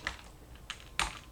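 Typing on a computer keyboard while writing Clojure code: a few sparse, soft key presses spaced out over a moment, close and quiet with no talking.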